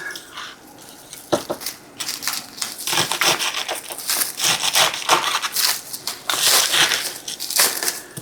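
Plastic wrap being peeled and crinkled off a wrapped onion in a home kitchen, a run of close, bursty crackling and rustling with short pauses, no talk.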